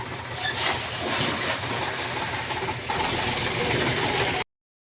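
A tractor engine runs nearby with a steady, rumbling, slightly knocking throb, briefly dipping then surging back before cutting off abruptly at the end.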